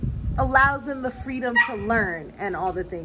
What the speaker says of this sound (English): you might hear her barking in the background